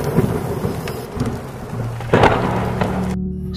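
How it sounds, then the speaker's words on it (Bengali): Thunder rumbles over a steady patter of light rain on a village night, a deep booming roll swelling midway and then cutting off, loud and close with rain hiss throughout. "মাঝে মাঝে আকাশেও মেঘের গর্জন।"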